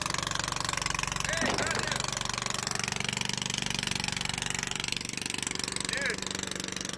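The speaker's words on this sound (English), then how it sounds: "That compressor's pumping air down" An air compressor on a boat pumps air down to a diver below, a steady rapid mechanical chugging at moderate distance that runs continuously under wind and water noise.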